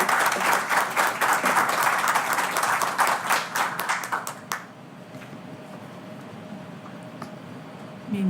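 An audience in a hall gives sustained, dense applause after an inaugural lecture. The clapping stays steady for about four seconds, thins into scattered claps and then fades into quiet room tone.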